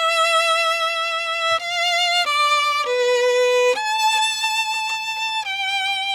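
Solo violin plays the opening of the second movement of Mendelssohn's Violin Concerto with each note bowed separately rather than slurred, giving a slow, clear melody of distinct sustained tones with audible note changes.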